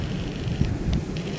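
Wind buffeting a microphone outdoors during a prehistoric friction fire-lighting session, a continuous low rumbling roar with slight gusty swells and no voices.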